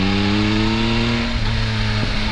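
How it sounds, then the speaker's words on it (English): A 2021 Yamaha MT-09 SP motorcycle engine accelerates with a steady, loud, close drone that climbs slightly in pitch before a brief dip near the end. "The engine, it's very powerful and it feels like a good kick when I roll the throttle."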